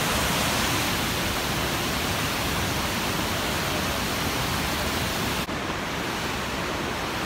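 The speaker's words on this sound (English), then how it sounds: "That's the waterfall right there." A waterfall spilling over a dam makes a steady, loud, broadband roar that stays constant throughout, with a slight shift in tone near the end and no voices.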